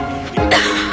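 A single loud, harsh cough from a Bisolbón cough syrup advertisement, with a second shorter cough near the end, heard over a steady background tone.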